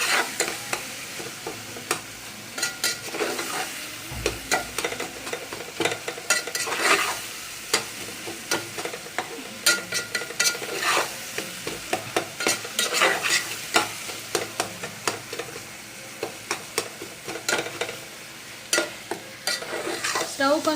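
Egg curry cooking in a pan is stirred again and again, quick scraping and tapping strokes of a spoon sounding over a steady close sizzle, with no talking.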